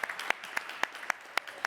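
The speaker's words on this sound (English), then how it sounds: "Applause from Bonn." Applause from an audience in Bonn at a 5G consumer entertainment demo day, heard as sparse, distinct individual claps in a slow, irregular rhythm, faint and somewhat distant.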